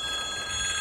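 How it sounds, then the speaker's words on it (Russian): A train passes near a railway crossing in the Pavshinskaya floodplain of Krasnogorsk, a brief steady rumble with a high metallic ringing tone over it. "Поезд идет. Вон он выплыл."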